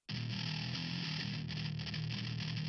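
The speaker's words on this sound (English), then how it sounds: "Then I double that and put some distortion on it." A doubled metal bass guitar track with added distortion kicks in suddenly and holds a thick, buzzing, heavily saturated tone, loud and steady for a few seconds with no talk.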